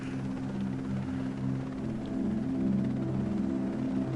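Small camera drone flying near a tower outdoors, its steady multi-tone rotor whine and hum holding continuously throughout at moderate level, with no talking.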